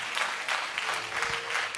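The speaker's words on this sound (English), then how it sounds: "give our visitors from around the world hand clap of praise" A church congregation applauds in a steady hand clap of praise, a dense, continuous wash of clapping with rhythmic pulses that fills the room throughout.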